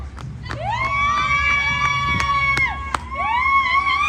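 A crowd at a hotel where people have stopped to eat keeps up loud, rising shouts and cheers. The yells are high and overlapping and run steadily through the whole stretch, with a few thumps.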